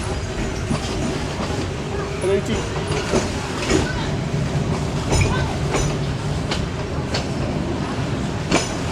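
Inside a carriage of the Yangon circular railway train, a steady rumble runs with rhythmic clacking of wheels on rail joints, while people talk over the noise.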